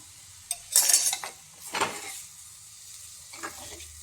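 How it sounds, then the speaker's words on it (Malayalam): A spoon stirs salt into taro stem avial in a pot, giving a few short scraping and clinking bursts against the metal with quiet gaps between them, close and moderately loud, with no talking. "ഉപ്പ് പൊടി ചേർത്തിട്ട് നമുക്കിതൊന്ന് ഇളക്കി കൊടുക്കാം"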